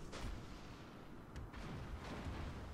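Battleship guns boom during a World of Warships naval battle, heavy low rumbling blasts that roll in and out under a constant game-sound bed, faint and distant.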